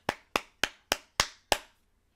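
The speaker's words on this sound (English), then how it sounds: "So, round of applause to the U.S." Six crisp, evenly spaced hand claps from a single nearby person in a round of applause for the U.S. Marshals, each one a sharp slap that fades quickly, with a short silence at the end.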